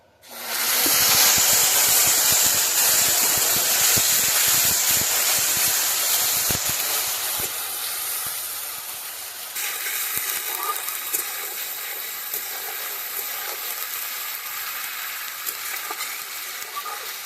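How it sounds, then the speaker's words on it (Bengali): Tomato paste sizzles and hisses loudly in a hot pan, with scraping stirs early on, then settles into a quieter, steady fry. "টমেটোটা একটু ভাজা ভাজা করে নিয়ে"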